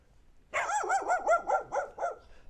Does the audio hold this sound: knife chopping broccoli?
no